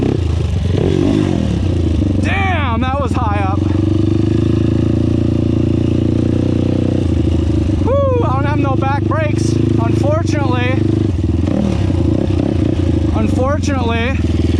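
A 2005 Honda TRX450R ATV revs hard in repeated bursts of climbing engine pitch over a constant loud idle, close up, with someone talking over it.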